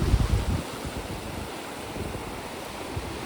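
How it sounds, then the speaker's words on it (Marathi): Rough sea waves break along a shore during a storm, a loud rushing surf with buffeting wind noise, strongest at the start and then rolling on steadily. "जिथे नजर जाईल तिथे फक्त लाटाच लाटा येतात."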